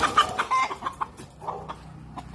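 A brood cock rooster on a chicken farm gives a run of short, close clucks in an uneven rhythm, with faint background noise between the calls.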